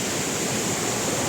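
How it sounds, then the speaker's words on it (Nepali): Waterfall on the Bhim river, a steady, dense roar of falling water heard close and loud with no pauses. "गाइस सो यो भीम खोलाको छागा"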